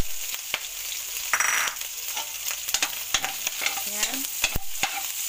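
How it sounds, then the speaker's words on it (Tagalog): Onions dropped into hot cooking oil for ampalaya con giniling, a bright steady sizzle with frequent sharp clicks and scrapes of a spatula against the pan, and a brief word spoken over it. "Pag mainit na yung mantika, ilalagay na natin yung sibuyas"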